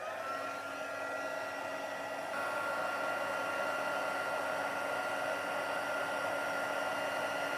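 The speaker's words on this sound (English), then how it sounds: "So I'm just going to heat that with the heat tool." A craft heat tool blows steadily over glue on a card, a continuous loud hair-dryer-like whoosh with a slight rise in intensity partway through, no talking.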